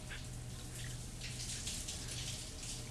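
Shower water runs steadily in a film scene, a continuous splashing hiss with a low hum beneath it and no voices.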